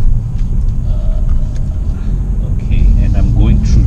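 Interior view of a 2020 Mercedes-AMG CLA 45 S 4Matic+ in comfort mode making a U-turn, with a steady low engine and road rumble throughout that swells slightly toward the end.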